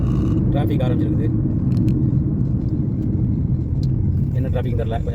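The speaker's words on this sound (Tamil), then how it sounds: "டிராஃபிக் ஆரம்பிச்சிருக்குது." Road traffic rumbles steadily on the Karak Highway in Malaysia during roadworks, a constant loud vehicle drone with occasional higher engine tones, heard from inside a vehicle.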